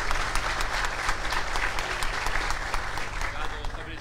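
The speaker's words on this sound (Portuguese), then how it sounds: "Fabrício, salve de palmas" Applause from a crowd at a stadium team-presentation event, a steady dense wash of clapping that holds at a fairly even level throughout, with a low background rumble and talk mixed underneath.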